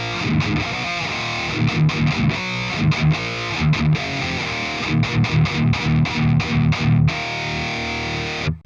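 A harsh, fuzzy digitally distorted electric guitar plays a chugging rock riff through a Flamma FX100 effects unit, loud and choppy, ending abruptly.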